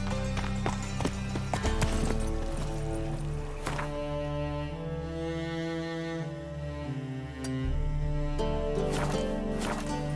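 Hooves of the horse Roach in The Witcher 3 clip-clop in a steady galloping rhythm beneath a loud musical score, clearest at the start and end.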